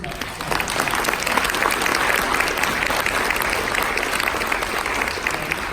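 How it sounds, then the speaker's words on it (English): Sustained audience applause at a conference event, steady dense clapping throughout at a fairly even loud level, with no talk over it. "So we'd be remiss not to just give him a round of applause."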